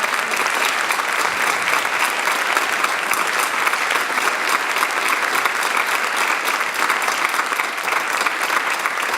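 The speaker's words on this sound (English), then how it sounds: "Can we please give them a huge round of applause?" Dense, sustained applause from a large concert audience honouring veterans at a 2015 Veterans Day concert, a steady roar of many hands clapping at even loudness throughout.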